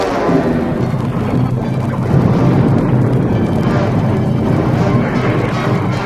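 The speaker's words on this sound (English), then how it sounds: "Krypton had become one gigantic bomb" Explosion sound effect of the planet Krypton blowing up in a Superman audio drama, a sustained loud rumbling roar that churns without distinct separate blasts.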